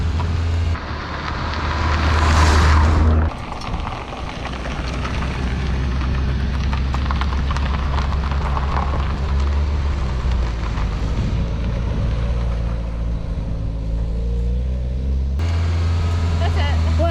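A 1983 Toyota Corolla Wagon engine runs with a low, steady idle drone, heard close by under talking voices and some rushing noise.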